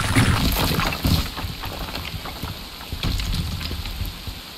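Rain in Bright Memory: Infinite falls as a steady hiss with scattered drop and splash ticks, fairly close and loud at first, then easing slightly.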